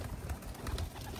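Soft, low cooing of racing pigeons, a few murmuring calls close together against faint background noise.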